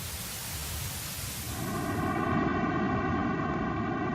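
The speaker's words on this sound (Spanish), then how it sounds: "Por silbante que suene el primitivo sonido cósmico, se diferencia del ruido blanco puro" Primordial cosmic sound rendered as audio: a steady, loud hiss of broadband noise that thickens after a moment and takes on faint layered tonal bands, continuous throughout with no voices.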